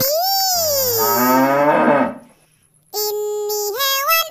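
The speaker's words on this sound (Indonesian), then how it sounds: "Sapi, sapi, sapi." Two long cow moos from cattle, the first a loud drawn-out low call with a falling pitch, then a pause and a second moo, close and clear with nothing else over them.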